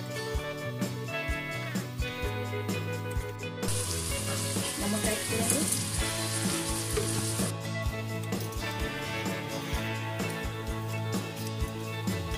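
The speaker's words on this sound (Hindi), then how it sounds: "अब हम क्लस्टर बीन्स ऐड करेंगे।" Cluster beans go into a hot pan with turmeric and red chilli powder, bursting into a loud, dense sizzle with a brighter hissing surge midway, frying steadily and close up with no talk.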